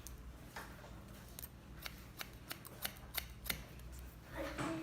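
Steel scissors snipping hair during a short bob haircut, a series of crisp, close metallic snips, some quick and some spaced apart, over a low steady room hum.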